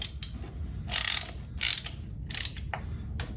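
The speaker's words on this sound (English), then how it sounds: "So now we'll get everything just tightened back up" Ratchet wrench tightening bolts on the Dana 70 axle of a 1974 Ford F350, quick bursts of clicking pawl strokes repeated several times, close and clear with no talking.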